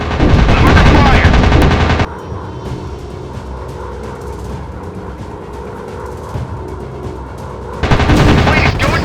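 Rapid machine-gun bursts from WW2 warplanes in the dogfight video game Warplanes WW2 Dogfight, loud and continuous at the start and again at the end, with a quieter stretch of engine drone and scattered shots in between.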